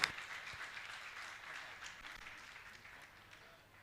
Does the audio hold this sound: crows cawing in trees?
no